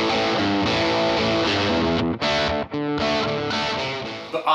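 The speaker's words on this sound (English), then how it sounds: "I get some pretty overdriven sounds like this." Electric guitar driven hard through a Vox amp with the top boost volume turned way up and the master around nine o'clock, strumming loud, gritty overdriven chords with a few brief breaks and no talking.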